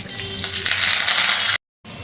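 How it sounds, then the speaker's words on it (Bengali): Halved potatoes hit hot oil for a Bengali mutton curry, and a loud, close, bright sizzle builds and holds before cutting off abruptly into silence and then resuming. "সেই আলুগুলোকে তেলে ছেড়ে আমি ভালো করে লাল লাল করে ভেজে নেব"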